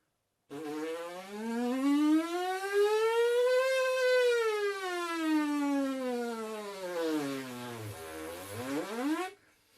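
A single sustained trumpet tone sweeps slowly upward to a high pitch, then glides down low before rising again, played alone.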